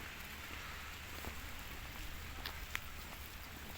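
Steady rain patters outdoors on an autumn walk in Kremenchuk, a soft continuous hiss with a few sharper drops landing on nearby surfaces, no voices.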